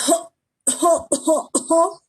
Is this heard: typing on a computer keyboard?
no